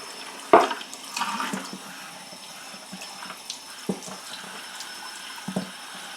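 Water runs from a tap into a small sink used for soaking watercolor paper, a steady splashing hiss with a few louder splashes and clunks over about six seconds, close by and with no talk.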